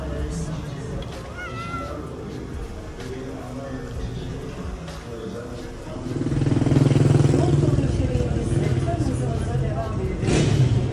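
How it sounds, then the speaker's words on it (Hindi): A cat meows repeatedly, calling out in a domestic setting in Cyprus, with a motor rumble rising partway through and a voice talking over it. "तो देखा आपने कैसे ये बिल्ली मुझे बुला रही है"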